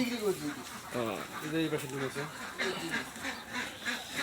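Ducks on a laying farm quack in a busy flock close by, overlapping calls running throughout while someone talks over them.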